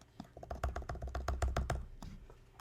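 Rapid clattering keystrokes on a computer keyboard, typed in an irregular burst of about a dozen taps that sits close and fairly loud, with faint background murmur and no speech.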